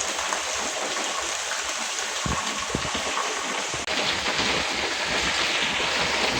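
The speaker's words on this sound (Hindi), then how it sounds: "बरसात की आवाज़ भी आपको महसूस हो रही होगी, कितना शोर पड़ रहा है बरसात का" Heavy early-morning rain pours down steadily with a dense hiss and splashing of water, as drainpipes gush, with a few soft thuds and a brief handling bump partway through, and no talking.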